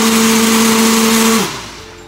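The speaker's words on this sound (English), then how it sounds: "And it should grind up pretty nice. These Ninja blenders, they're the real deal." A Ninja blender grinds a green smoothie with a loud, steady whirring motor whine that suddenly drops in pitch and winds down as it is switched off.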